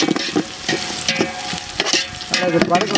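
Onions and green chillies fry loudly in a pan for village-style guinea fowl biryani, a close crackling sizzle with brisk, repeated stirring scrapes throughout.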